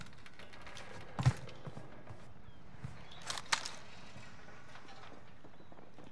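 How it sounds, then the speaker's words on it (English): Enemy footsteps in the Call of Duty Warzone Rebirth Resurgence battle royale shooter: faint, sparse thuds and scuffs, with a couple of sharper steps standing out over low, quiet game ambience. "Footsteps."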